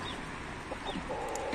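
Rooster clucking among Leghorn hens in a chicken coop in light rain, soft scattered clucks and calls over a steady background hiss.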